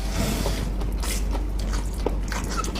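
Close, crunchy bites and chewing of tambusu, a large stuffed sausage, heard over a steady low background hum with no talking.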